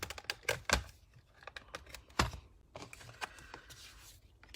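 Dry clicks, cracks and short crunches from a small die-cutting machine pressing a metal die through card while making an autumn wreath card, a burst of sharp snaps early on and scattered lighter clicks after, close and alone.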